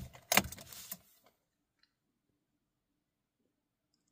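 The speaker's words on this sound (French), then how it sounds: "On remet en contact pour en être sûr." Key turned in the ignition of a VW car with a 1.5 TSI engine, a brief cluster of jangling and clicks up close lasting about a second, then near silence with a couple of faint ticks.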